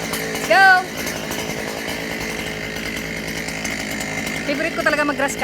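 A gas grass and brush cutter runs steadily with a buzzing two-stroke drone, revving up sharply near the start and again near the end, with a person's voice heard briefly over the engine.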